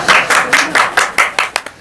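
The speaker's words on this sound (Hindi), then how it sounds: "तालियां।" Crisp, loud hand claps ring out in a quick series of about eight, evenly paced and close, fading slightly at the end, from a small group in a street setting.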